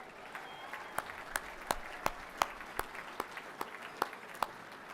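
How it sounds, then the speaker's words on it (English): Applause from a reunion luncheon crowd honouring Carlton's 1981 and 1982 premiership players, with scattered, uneven claps and sharp individual hand slaps rising above a steady murmur of the room. "That deserves a round of applause."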